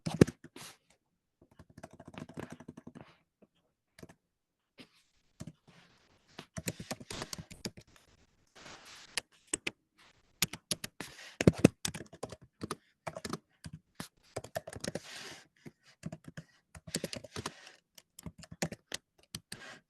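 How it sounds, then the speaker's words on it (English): Someone types on a computer keyboard in quiet, irregular bursts of close clicking keystrokes with short pauses between them. "So I'm just gonna type those in right now."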